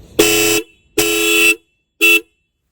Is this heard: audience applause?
no